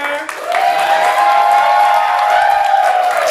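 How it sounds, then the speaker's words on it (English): Applause and cheering break out from a Fringe Festival theatre audience for a play's director, a dense sustained roar of clapping with whoops and a held cheering voice above it. "Applause for the director."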